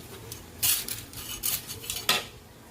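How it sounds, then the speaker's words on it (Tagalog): Pansit bihon and canton noodles are tossed and stirred in a pan, with scattered utensil scrapes and clinks against the metal, fairly faint and close. "ilagay na po natin yung pansit bihon"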